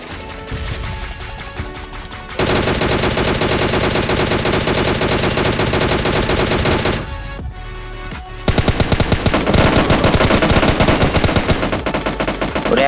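MK14 rifle fire in PUBG Mobile Lite: loud, dense bursts of rapid gunshots that run for several seconds, drop briefly, then return as a sharper stream of shots near the end.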